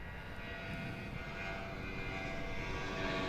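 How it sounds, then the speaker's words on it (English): A delivery drone flies overhead at altitude, giving a continuous, even engine drone that holds steady and swells slightly toward the end, with no voices. "So keep your eye on the drone as it comes across there."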